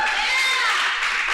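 A room of attendees at a morning chamber of commerce coffee gathering applauding, with dense, steady, close clapping that fills the whole moment at an even level.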